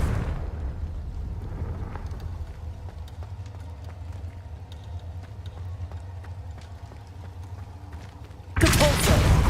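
An explosive Confringo spell blast from Hogwarts Legacy bursts out suddenly at the very end, following a steady low rumble of in-game ambience.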